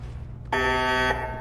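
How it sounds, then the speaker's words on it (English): A buzzing electronic alarm from the video game Fallout 4 sounds once for about half a second, a harsh tonal blare over a steady low background hum. "I apologise for the alarm sound now."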